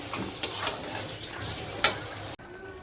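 Pumpkin greens with lentil paste fry on low gas and are stirred repeatedly, giving a soft crackling sizzle broken by a few scraping clicks before the sound drops away abruptly.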